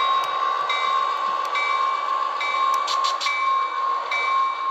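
A model train locomotive from Athearn, Atlas or Walthers runs with its sound system on, a steady electronic engine drone with a sustained tonal hum and faint periodic clicks, loud and continuous throughout.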